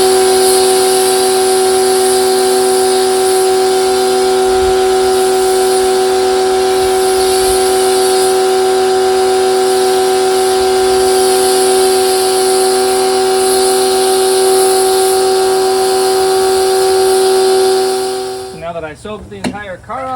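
Pressure washer spraying soap foam onto a car, a loud, steady hiss with a strong whining motor hum held for a long stretch, ending in a brief sputtering burst.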